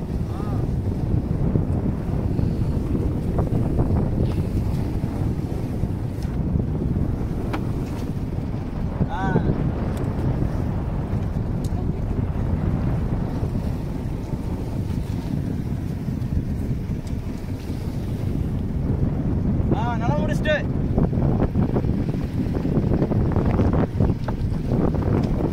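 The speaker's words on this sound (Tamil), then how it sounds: "அந்த இடத்துல நம்ம வந்து படகு நிறுத்துறோம்." A fishing boat slows and stops out at sea about 65 feet deep to anchor, its low engine rumble under heavy wind buffeting the microphone and water noise, with people talking throughout.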